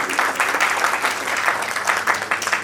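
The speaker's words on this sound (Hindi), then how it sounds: "मैं चाहता हूं कि बहुत जोरदार तालियां एक बार इनके लिए बजा दें सब लोग।" Audience applause at the 52nd Saifi Day book launch event, a steady wash of many hands clapping throughout, fairly loud and sustained with no voices over it.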